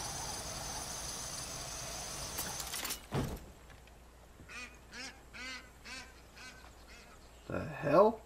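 Ducks quacking in Far Cry 5, a run of short nasal calls in the middle of the scene after a sharp thud, with a louder squawk near the end over game ambience.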